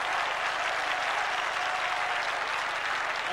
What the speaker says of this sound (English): Applauding, showing an appreciation for the efforts of the guys out on the ground